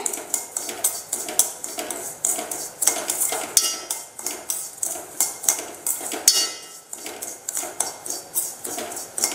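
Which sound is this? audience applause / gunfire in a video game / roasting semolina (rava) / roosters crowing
roasting semolina (rava)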